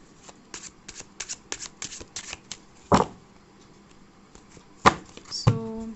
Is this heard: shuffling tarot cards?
yes